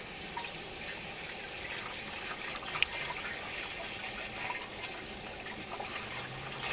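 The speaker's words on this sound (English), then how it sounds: "Now we're adding the baking soda water mix." Baking soda water mix poured into the fuel tank of a 2000 Suzuki Katana 750 motorcycle during acid cleaning: a steady, faint rush of splashing, trickling liquid with no speech.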